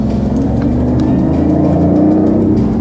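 A small three-cylinder car engine revving, a loud, close, continuous buzzy hum with a slightly rising pitch, running alone without any voices for a few seconds.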